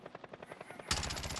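A helicopter in the video game Call of Duty Warzone gives a quick run of rhythmic rotor thumps, then a sudden louder, denser burst of chopping noise that holds to the end.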